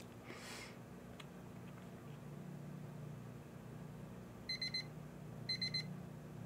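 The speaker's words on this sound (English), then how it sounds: "I want to show you what the sound of the alarm is like" Two short clusters of three quick, high-pitched electronic beeps from a kitchen timer alarm sound near the end, after a brief rustle, over a quiet room hum.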